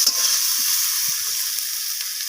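Potatoes and onions fry together in a pan with an even, bright sizzle, broken now and then by soft bumps of stirring.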